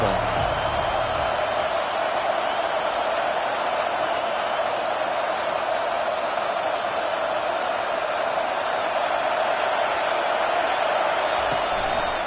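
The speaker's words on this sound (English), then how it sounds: "how nice is it to have the home crowd going absolutely bananas?" A home crowd roars steadily at a football game, a dense, loud, continuous wash of cheering that holds throughout with no break.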